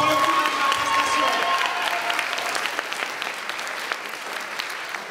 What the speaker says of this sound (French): On peut encore applaudir une fois pour le coup de la prestation.